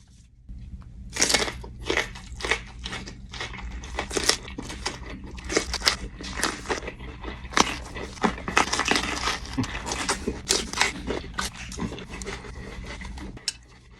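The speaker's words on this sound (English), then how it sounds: "Eating all of this stuff together cannot be very enjoyable" Person eating a mix of spicy foods and snacks, with frequent close, irregular crunches, bites and chewing, plus scattered clinks of cutlery and dishes throughout.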